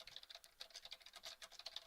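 Fast, quiet typing on a computer keyboard, close and continuous, with rapid irregular keystroke clicks and no talk.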